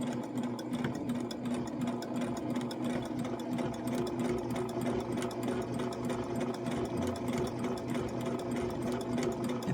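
A sewing machine stitches a lotus flower quilt block, running at a steady, fast, even whir with rhythmic mechanical ticking, close and continuous for the whole stretch.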